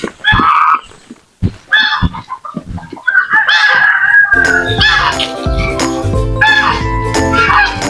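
Loud, repeated honking and squawking calls of geese, mixed with rooster-like crowing and clucking from nearby fowl, growing into a dense, noisy chorus.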